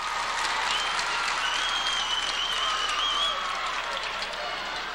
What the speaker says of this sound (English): And the Trinity fans are cheering.